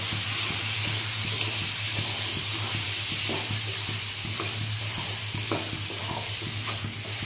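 Aloo paneer curry stirred in a hot pan, a soft continuous sizzle and hiss with a rhythmic series of spoon scrapes and light taps against the pan, close and unaccompanied by speech.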